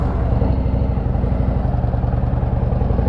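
A motorcycle engine thrums steadily while riding, a close continuous low pulsing rumble with some wind noise and no pauses.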